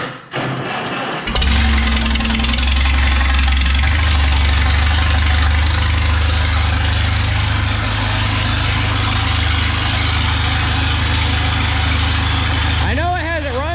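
Tractor engine catching and running after sitting unused, wanting choke; a steady loud low idle continues after the start, with a voice speaking over it briefly near the end.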